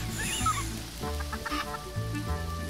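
Chicks clucking in the Minecraft video game, a few soft repeated clucks near and clear over a faint background of game tones and music.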